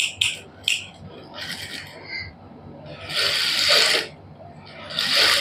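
A sewing machine stitches a neckline in short bursts, close mechanical whirring runs that start and stop several times, the longest around a second, with quiet pauses between.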